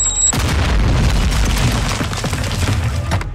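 A Semtex grenade explodes in Call of Duty Modern Warfare II multiplayer, a loud, close boom that rolls on as a dense, rumbling burst with crackling debris for several seconds.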